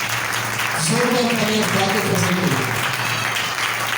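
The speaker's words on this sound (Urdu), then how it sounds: "ذرا خدا کی فضل کے لیے زوردار تالیاں بجائیں" A church congregation claps together in a sustained round of applause, steady and fairly loud, with a voice speaking over it.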